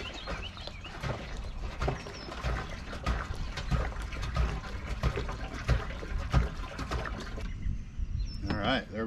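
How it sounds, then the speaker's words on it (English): A prodiamine 65WDG herbicide mix is dumped into a sprayer tank already holding 10 gallons of water, making a continuous noisy pouring and splashing wash that stays steady throughout and ends with a brief clatter. "We'll dump our Prodiamine concoction in there."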